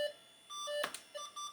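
A PC whose BIOS has lost its settings gives off short, thin electronic beeps in an irregular pattern, with a brief clatter partway through, in an otherwise quiet room.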